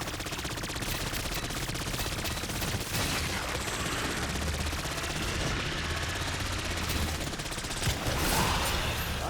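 Rapid sustained automatic gunfire from an MP40 or M14 in Black Ops 6, loud, close and continuous across the whole stretch with dense repeated shots.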